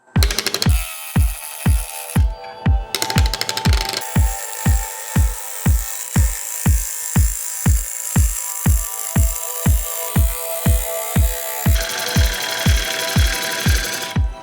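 A cracked, bug-infested log spins on a wood lathe as a gouge cuts it, producing a steady, evenly spaced thumping knock about twice a second over a continuous mechanical hum, close and loud throughout.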